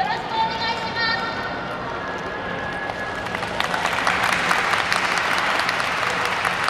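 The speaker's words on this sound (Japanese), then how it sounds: "それでは最後まで手拍子、お心拍子のほどよろしくお願いします。" Spectators at an outdoor yosakoi dance performance in Japan clap along as a dance team begins, with a tonal musical intro fading into a broad, steady crowd of clapping and cheering.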